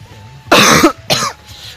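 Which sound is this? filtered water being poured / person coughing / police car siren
person coughing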